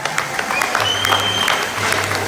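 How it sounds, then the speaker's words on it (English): An audience at an open shearing final at the Staffordshire County Show applauds a sheep shearer, steady dense clapping from a crowd with a few cheers mixed in. "Give him a big cheer, ladies and gentlemen."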